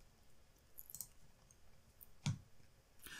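Computer mouse clicks while configuring firewall software, a few faint, sharp ticks spaced apart over quiet background, close and alone.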